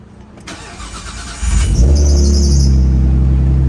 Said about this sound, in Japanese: I want to start it up and see how it sounds.